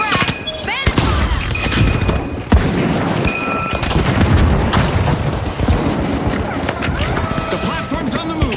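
Frag grenade bursts and gunfire in the arena shooter The Finals, loud dense booms and cracks layered over constant action noise, with a voice talking throughout.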